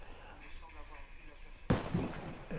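A single sharp, booming shot from a Barrett M98B sniper rifle fired at very close range in the video game Warface, breaking suddenly out of quiet game ambience with a short rumbling tail.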